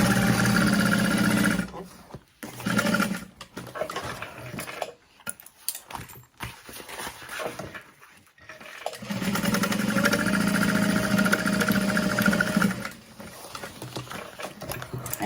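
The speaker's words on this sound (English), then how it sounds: "I'm going to sew along in a U shape to close up that pocket" Sewing machine stitching a U-shaped seam to close a bag pocket, rapid steady whirring bursts with pauses between runs, close and clear.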